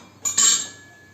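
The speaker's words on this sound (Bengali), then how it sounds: "আমি কড়াই বসিয়ে দিলাম, কড়াইয়ের মধ্যে গ্যাসটা ধরিয়ে দিয়েছি।" A metal kadai is set down on a gas stove with a single bright metallic clank that rings briefly and fades, close and alone.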